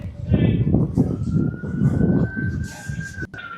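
A steady siren tone rises from emergency vehicles in Swindon town centre, sounding over loud traffic rumble and a busy street, with people's voices mixed in nearby.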